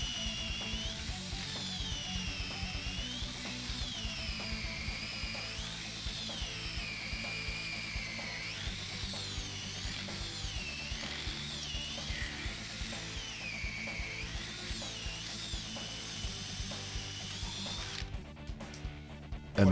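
A Prototal drill bit grinding steadily through a metal bolt, a loud continuous power-drill whine with wavering pitch that runs for most of the clip before cutting off near the end.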